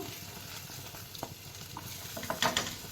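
Pieces of goat brain fry in a pan with a steady close sizzle, with a few light stirring scrapes and small pops toward the end.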